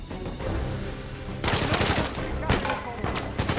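Gunfire in the video game Uncharted 4 starts after a short lead-in and comes as loud rapid bursts with dense, sharp cracks, overlapping with a voice speaking.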